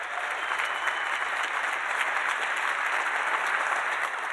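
Sustained crowd applause in a conference hall at the 2018 EcoDistricts Summit in the Twin Cities, a dense even roar of many hands clapping at constant loudness throughout, no voices over it.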